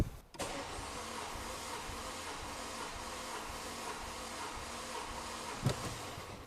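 The starter cranks a damaged Renault Megane 3 RS engine during a cylinder compression test, a steady mechanical churning held for several seconds at close range, with a small clunk near the end.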